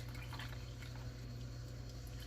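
Marinade gravy liquid for a chuck pot roast is poured into a pot, a continuous wet splashing and trickling with a low steady hum underneath, short and fairly quiet.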